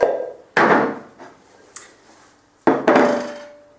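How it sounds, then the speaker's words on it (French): A spoon mixes butter with sugar in a bowl, making a few distinct scraping, knocking strokes with short pauses between them, close and moderately loud, with no talking. "Donc je vais les mélanger à la cuillère"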